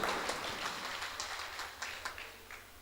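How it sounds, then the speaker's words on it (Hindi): Faint, scattered applause from a mushaira poetry-recital audience in Gangoh, Saharanpur, a distant light patter of hands with a few sharper claps standing out. "एक बार जोरदार तालियां बजाकर मुझे बताइए।"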